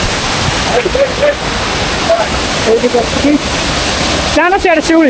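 The Rani Chua waterfall near Bargarh, Odisha, pours down forcefully in a loud, close, continuous roar of crashing water, with someone speaking briefly over it.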